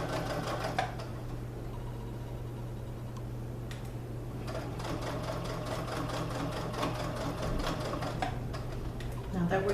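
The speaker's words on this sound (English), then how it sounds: "let's remember to back stitch and just keep sewing." A sewing machine stitches fabric for a children's apron in a steady rapid mechanical whir and tick, with brief pauses and restarts, while a voice talks over it.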